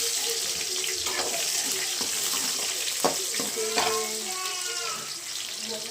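Chopped onions sizzling and crackling in hot oil in a pan with garlic for a Rayalaseema-style potato curry, a steady loud fizz with scattered spatters and occasional stirring clinks, no talk over it.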